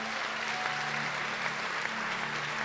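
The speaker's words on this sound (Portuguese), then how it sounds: "Podem aplaudir ao Senhor." A church congregation claps steadily and densely during a Portuguese-language worship service. The dense wash of hand claps runs for a few seconds with a faint low tone beneath.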